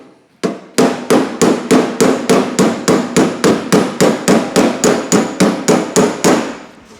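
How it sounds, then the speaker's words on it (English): Mild steel being hammered on a van door skin from an XC Falcon panel van, a steady run of about twenty sharp metallic blows at an even, brisk rhythm, loud and close with no talk. "I'm just sitting that on there like that and hammering this way"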